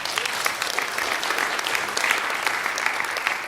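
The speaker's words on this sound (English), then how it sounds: "this deserves an applause or something like that." Audience applause at a security conference talk, steady dense clapping from a large crowd filling the room without a break, with no voice over it.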